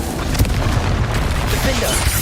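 A Confringo fire spell blasts in Hogwarts Legacy combat, a loud, dense booming explosion filling the moment, with a shouting voice mixed in.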